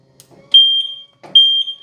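A Monport CW-5200 water chiller alarm sounds two loud, piercing high-pitched beeps, each about half a second long, with faint clicks and handling noise just before each one.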